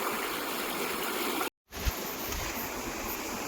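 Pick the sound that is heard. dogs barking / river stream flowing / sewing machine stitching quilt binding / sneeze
river stream flowing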